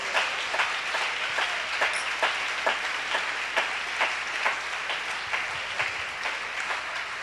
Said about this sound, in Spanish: ¿Cuánto le pueden dar un aplauso al Señor Jesucristo?